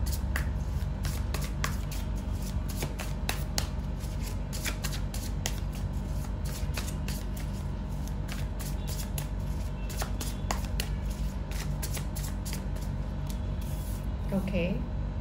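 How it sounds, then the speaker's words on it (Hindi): Tarot cards are shuffled and drawn in a steady run of crisp riffling, flicking and snapping card sounds, close and continuous throughout. "अब हम टैरो से कुछ कार्ड्स निकालेंगे"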